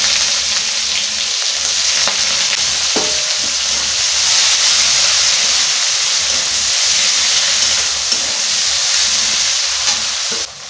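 Chopped onion hits hot oil tempered with dried chili, cinnamon, cardamom and cloves for a soybean and egg curry, producing a loud, steady, close sizzle and hiss that carries on without pause.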